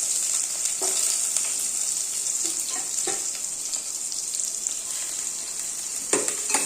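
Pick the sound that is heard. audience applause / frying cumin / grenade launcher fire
frying cumin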